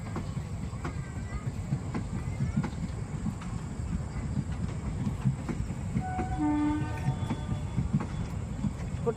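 A train rumbles past with a continuous low clatter of wheels and carriages, and a horn sounds briefly partway through, with faint background voices.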